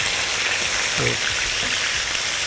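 Chicken strips and garlic cloves fry in oil in a pan, a loud dense crackling sizzle that stays constant throughout, with a couple of faint low knocks underneath.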